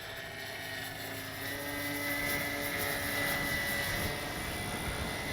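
A Dynam Tucano RC model airplane flies overhead, its electric motor and propeller making a steady buzzing whine that swells slightly as it passes, heard at moderate distance with no voices.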